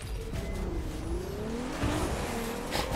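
Hypercar tearing through an off-road race in The Crew 2, its engine droning steadily with rising and falling pitch as it accelerates, tires hissing and scrabbling over loose ground, loud and continuous with no talking.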